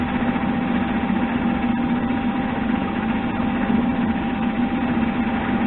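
A machine spindle turns steadily at 200 RPM during a lapping job. It gives a continuous, even mechanical hum with a faint whine, close and moderately loud, without pauses or voices.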